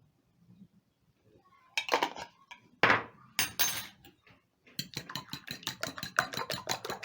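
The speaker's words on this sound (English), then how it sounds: "Use a fork to mix in everything" A fork clinks and taps against a bowl while eggs seasoned with salt and pepper are mixed, starting with a few scattered knocks and then settling into quick, steady rhythmic clattering, close and fairly loud with no talking.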